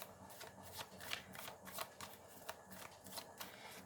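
A tarot card deck being shuffled by hand: a steady run of soft, papery riffling strokes, close and fairly quiet, with no voices.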